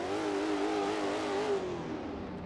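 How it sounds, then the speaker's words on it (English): A carbureted car engine in a driving game revs hard and holds near the limiter, a loud continuous wailing drone that wavers slightly in pitch before easing off. "Let me blow up the engine, because this is carbureted."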